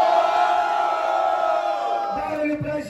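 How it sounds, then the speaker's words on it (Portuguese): Live audience at a Brazilian freestyle rap battle roars and shouts loudly for a contestant, a dense sustained crowd noise that swells and then breaks into scattered yells near the end. "Vocês têm que escolher um e gritar very alto."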